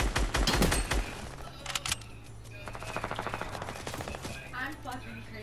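A P90 fires in Fortnite in rapid automatic bursts, close and loud, with dense crackling volleys separated by short pauses, and more bursts carrying on in the latter part.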